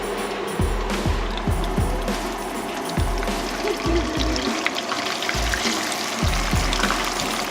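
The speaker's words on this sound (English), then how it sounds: "we've got some little pomfret fish frying in a little bit of oil" Steady sizzling and crackling of small pomfret fish frying in a little oil in Dubai, with occasional low thumps underneath, close and continuous throughout.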